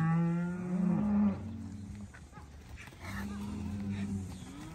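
Angus heifers around 400 kilos moo close by in a mob of 85, one long low bellow at the start and another fainter call later, amid yard noise.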